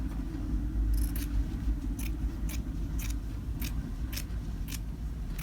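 Scissors snip through quilt fabric while trimming a Halloween art-style mini wall hanging, a series of quiet, crisp cuts in an irregular rhythm over a low steady background hum.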